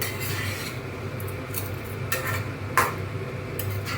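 Vegetarian aloo dum with kasuri methi and chopped green chillies is stirred in a pan, giving several short scraping bursts over a constant low hum, with a sharper clink near the middle.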